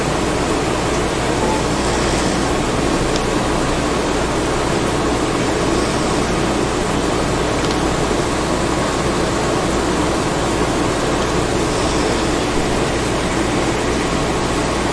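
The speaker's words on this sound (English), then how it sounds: "It's raining outside, guys." Rain falls steadily outside, a constant dense hiss lasting throughout with only faint, brief variations and no speech.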